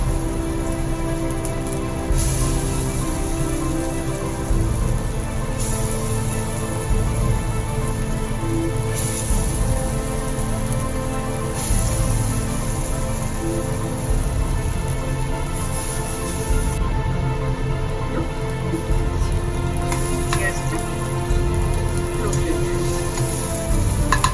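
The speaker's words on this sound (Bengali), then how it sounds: "বড়াগুলো ভাজা হয়ে গেছে" Continuous crackling sizzle of masoor lentil fritters deep-frying in hot oil, a dense, even hiss that carries on steadily throughout.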